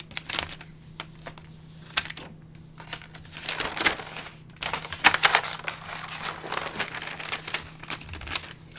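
Paper is folded over to miter its ends while crafting a desktop organizer, giving soft crinkles and sharp creasing crackles in uneven bursts. The sound is close and busier toward the end.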